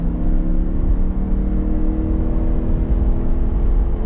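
A Lamborghini Huracan EVO Spyder engine pulling hard on a race track, a loud steady droning rumble with a rising whir heard from inside the car.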